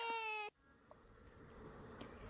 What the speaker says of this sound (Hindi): किसी बच्चे के रोने की आवाज़ से उसका